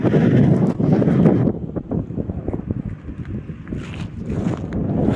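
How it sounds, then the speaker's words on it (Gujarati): Strong coastal wind at the sea shore near Dayal village roars against the microphone in heavy, continuous gusts, loud and close, easing briefly before building again. "આ બધો દરિયો છે."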